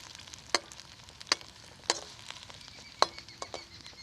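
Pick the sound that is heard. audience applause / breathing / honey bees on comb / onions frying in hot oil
onions frying in hot oil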